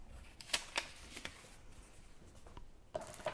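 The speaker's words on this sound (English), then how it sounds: "I'm going to run this one through my Stampin' Cut and Emboss machine and cut this one out" Stampin' Cut and Emboss machine die cutting paper at a crafting table, with a few quiet, crisp rustling and clicking bursts and sparse handling sounds in a hushed room.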